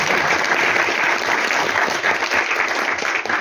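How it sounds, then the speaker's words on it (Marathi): An audience at an evening devotional music gathering claps in loud, sustained applause that holds steady throughout with no pauses. "टाळ्या"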